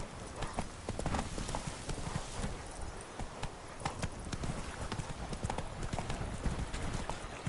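Roach the horse trotting in The Witcher 3, steady rhythmic hoof clip-clops beneath a low, busy game soundscape, moderately quiet throughout.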